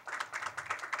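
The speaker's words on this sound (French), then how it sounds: "Je demande d'applaudir Myria." A few people clap for a judge at the launch of Digicel Stars at a hotel, a short, sparse burst of distinct hand claps.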